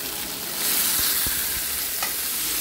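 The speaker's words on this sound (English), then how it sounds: "So I'm going to sear this for another 2 to 3 minutes" Stuffed chicken breasts searing in a hot pan give a dense, even sizzle that swells slightly after the first half second, with a few soft clicks and bumps of movement in the pan, close up and without voices.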